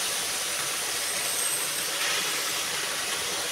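Red amaranth greens hit a hot pan and set off a loud, continuous hiss of steam and sizzle that holds steady without pause, with no one talking.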